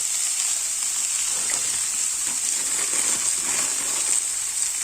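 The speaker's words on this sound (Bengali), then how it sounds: "বেশ খানিকটা সময় এভাবে নাড়াচাড়া করে হালকা একটু ভেজে নেব" Bitter gourd and potato pieces frying with turmeric powder while being stirred, a loud, continuous bright hiss of sizzling oil throughout with faint scraping, no speech.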